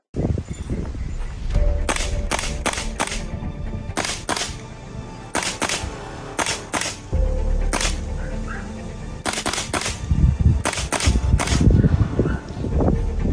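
Umarex H&K G3A3 battle rifle firing, a string of sharp loud cracks in quick single shots and short bursts, close and ringing against a steady background, with no talk.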